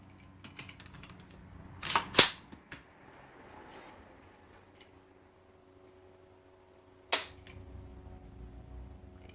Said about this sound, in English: Let's do a trigger test on it. See what it's pulling at.